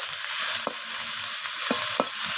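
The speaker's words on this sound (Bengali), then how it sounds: "তো লবণ আর হলুদটাকে দিয়ে আমি আবারও পেঁয়াজ কলি বেগুনের সাথে মিশিয়ে নিয়ে একটু নাড়াচাড়া করে ভাজা করে নিচ্ছি।" Eggplant and onion stalks with salt and turmeric fry in a pan, a loud, steady bright sizzle punctuated by a few sharp stirring knocks against the pan.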